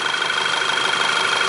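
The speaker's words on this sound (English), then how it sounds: "There's the petrol engine." Petrol engine of an Audi A3 TFSI Quattro S Line idling with the bonnet raised, a steady, close, even hum with a faint rhythmic ticking and no variation in level.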